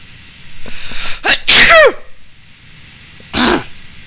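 A loud, close sneeze bursts out in a sharp double explosion, followed after a pause by a second, shorter sneeze, set against near silence.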